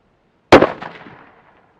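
A single close, sharp rifle shot from a Mossberg 800B in .243 Winchester on a shooting range, loaded with 41 grains of 4831 powder, cracking loudly and then decaying over about a second.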